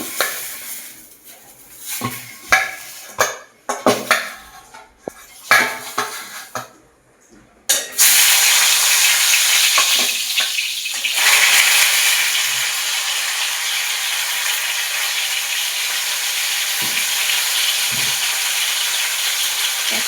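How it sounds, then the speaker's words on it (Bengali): A diamond sea fish, cooked desi style, goes into hot oil after several seconds of scattered kitchen clatter, then a strong, continuous close-up sizzle holds to the end with no speech. "গরম হয়ে গেছে এবার মাছটা ভেজে নেবো"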